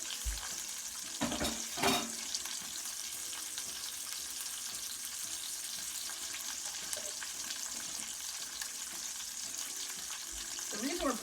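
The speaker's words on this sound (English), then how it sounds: "The reason we're browning this on the outside is to sear the meat juices to the inside." Meat browning and searing in a hot pan, a continuous close hiss with scattered pops and a few utensil scrapes near the start and end, fairly quiet throughout.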